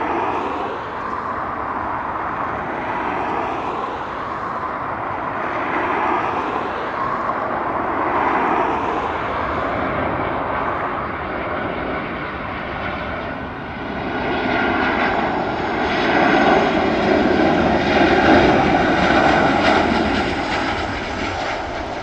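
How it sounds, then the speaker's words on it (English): A Ryanair Boeing 737 jet arriving at Dublin Airport gives a loud, continuous engine roar that swells and shifts in pitch as it passes nearby, heard alone without speech. "Inbound Ryanair 737."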